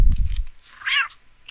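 Cat meowing in the video game Postal 2 Paradise Lost: a single short, clear, close meow follows a brief burst of low rumbling noise.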